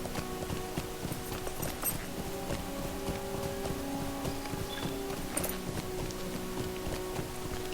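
Horse hooves clip-clopping steadily in the online game Lord of the Rings Online, an even rhythmic walking beat over a game backdrop, moderately loud.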